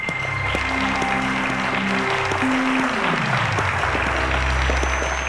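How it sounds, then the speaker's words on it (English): A studio audience on the Cowbellpedia quiz show applauds the student contestants, a steady, dense wash of clapping that holds at even loudness throughout, with faint background tones underneath. "A round of applause to them"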